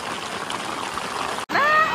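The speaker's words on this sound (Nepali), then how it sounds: "असिना आयो पुरा" Hail and heavy rain pour down during a trip from Sikkim to Darjeeling. A dense, even roar of falling water breaks off abruptly near the end, then a brief tonal sound follows.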